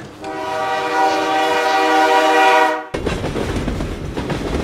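A passenger train runs with a steady horn-like tonal drone for nearly three seconds, then cuts to continuous rattling clickety-clack of wagons rolling along the rails, loud and close, with no voices.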